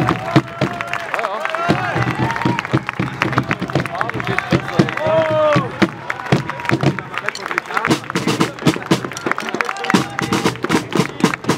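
A carnival crowd greets the new prince couple taking the stage at a Fasching event in Bregenz, with sustained applause, clapping and cheering that rise and ripple for several seconds, while a voice announces over it.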